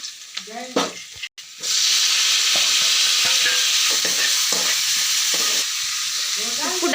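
Tomatoes drop into a pan of sautéed onions, setting off a loud, steady sizzle of frying with stirring and clinks close up, and a few brief kitchen knocks just before.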